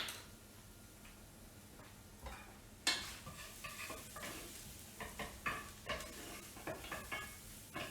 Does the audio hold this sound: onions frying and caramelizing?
yes